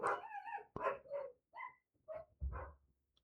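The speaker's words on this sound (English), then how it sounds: "Dogs going crazy." Dogs barking in short, separate bursts with gaps between them, fairly close and moderately loud, five or six yaps in quick succession.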